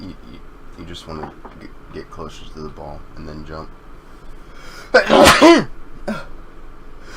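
A sneeze bursts out near the middle, loud and close, during a casual exchange over a Rocket League coaching session, with speech before and after it.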